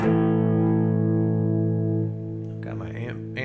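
Electric guitar played through a distortion pedal at full gain into a loud amp, a sustained distorted chord ringing for about two seconds before decaying as a few notes and a voice come in near the end.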